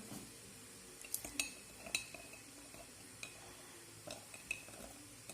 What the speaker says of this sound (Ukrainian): Все перемішуємо гарненько так, щоб дрожжі розчинилися